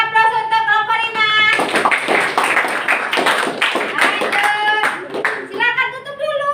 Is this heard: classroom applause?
yes